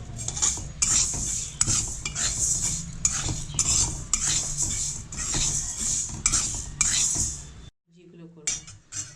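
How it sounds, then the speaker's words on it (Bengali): Mung dal with vegetables stirred in a pot, with busy scraping and clinking of a spoon against metal over a bright hiss for several seconds. It breaks off to near silence, then faint knocks return near the end. "একটু ডালটা নেড়ে নিতে হবে"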